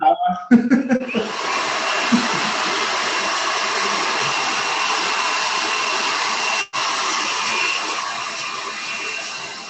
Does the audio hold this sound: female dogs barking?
no